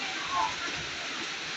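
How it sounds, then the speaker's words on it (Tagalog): Heavy rain pouring down in rural countryside farmland near a river, a dense, steady hiss filling the air, close and continuous. "Ang ulan."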